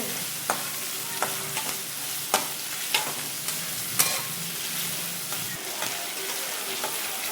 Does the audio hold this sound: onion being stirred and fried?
yes